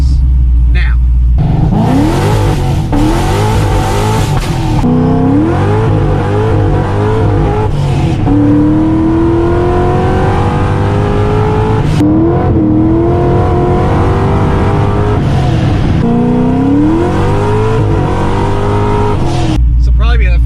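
A car on regular street Michelin tires does a burnout, its engine revving hard in repeated surges with a squealing tire whine, loud and close throughout, while a voice talks over it.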